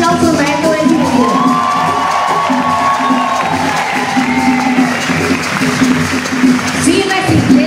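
Crowd at a cumbia and tambora concert in Bogotá cheering and applauding loudly, with shouts and whoops rising above dense clapping while a voice carries over the noise.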